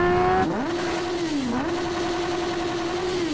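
Honda CB 1000R motorcycle engine in GTA San Andreas, a steady mid-pitched drone that rises and dips as the throttle shifts, loud and close throughout with no talk.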